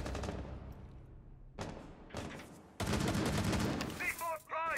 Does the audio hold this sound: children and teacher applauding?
no